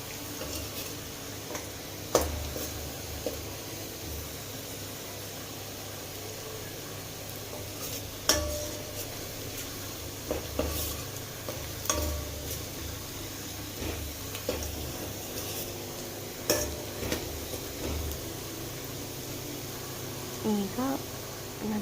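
Onions softening in a frying pan on a home stove, a steady low sizzle with scattered clicks and scrapes from stirring, close and moderately quiet, with no talking.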